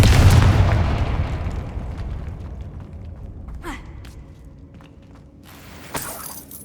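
In Hogwarts Legacy, a Confringo explosive spell lands with a loud, deep boom at the very start that rolls off in a long fading rumble, followed later by faint debris and a sharp crackling burst.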